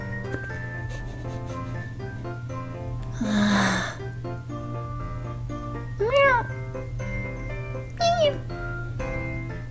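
A kitten meows a few times, short rising and falling cries spaced apart over a steady background hum, with a louder breathy burst earlier and no speech.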